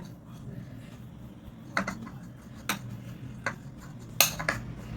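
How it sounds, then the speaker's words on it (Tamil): A spoon stirs coriander powder into a garlic chutney in a bowl, making a few sparse, sharp clinks against the dish over a quiet kitchen background, with no one talking. "மல்லித்தூள், தனியாத்தூள் இதையும் போட்டுடலாம். இப்படி கலந்து விட்டுருங்க."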